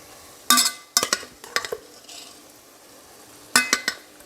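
Cleaned chicken coated with turmeric and salt goes into a pan of sautéed tomato for coconut chicken curry, giving a few sharp sizzling, clattering bursts with stirring scrapes between them, close and alone without talk.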